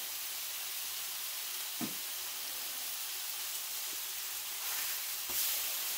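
Chicken sears in a pan for chicken parmesan, giving a soft, steady sizzle and hiss with a few faint clinks of a utensil, heard alone at low level.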